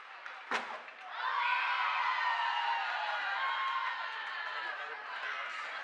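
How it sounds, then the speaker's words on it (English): A hockey crowd at a high school playoff quarterfinal breaks into a sustained Bronx cheer after a sharp thud near the start, the mass of voices swelling quickly and holding loud and steady for several seconds. "There's a big Bronx cheer"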